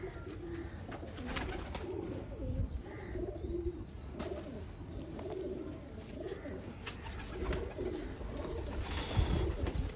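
Pigeons coo in repeated soft, throaty phrases over a low rumbling background, with occasional wing flutters or knocks, moderately close and without talk.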